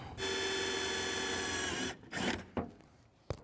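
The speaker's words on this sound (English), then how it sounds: "We'll drill it." A power drill from a Harbor Freight set bores a hole through a small metal cover plate over the old heater outlet while installing a 1967-1972 Ford air conditioning kit, giving a steady, close whine for under two seconds, followed by a few brief clunks.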